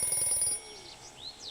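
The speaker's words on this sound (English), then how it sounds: "And that is the sound of a job completed" A bright ringing chime marks a completed job in the Derail Valley train simulator game, sounding for about half a second before fading into quieter ambient game sounds with faint bird-like chirps.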